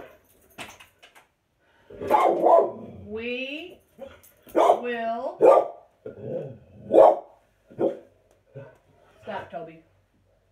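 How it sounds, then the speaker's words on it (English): A dog barks repeatedly in loud bursts, with some whining and yelping, over and between a person's speech. "Y'all hear Toby? I don't know what he's barking at."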